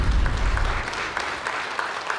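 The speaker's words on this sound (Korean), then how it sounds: "네, 박수 부탁드립니다." An audience at a Labor Day commemoration ceremony applauds after a stage performance, steady clapping at moderate distance with a brief low rumble at the start.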